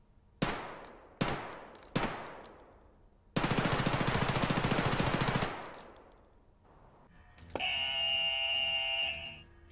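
A SIG MCX rifle fires three loud single shots, then a long sustained automatic burst with sharp echoing decay, followed by a steady electronic alarm-like buzzer tone.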